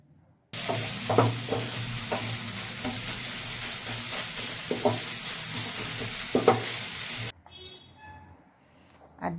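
Chicken frying in a pan for a kids' evening snack gives off a loud, steady sizzle with occasional scrapes and taps of stirring, running for several seconds before cutting off to near quiet.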